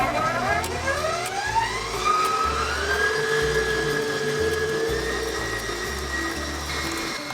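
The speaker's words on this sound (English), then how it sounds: "we're going to beat them for about 5 to 8 minutes until they triple in volume" An electric mixer whirs steadily as it beats eggs with sugar, with a rising and shifting motor whine over a low rumble that runs loud and continuous throughout.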